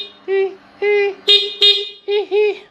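Horn of a 2024 Suzuki GSX-8S motorcycle honks six times in short, loud, close bursts, in two uneven pairs and groups with brief gaps, heard on its own without speech.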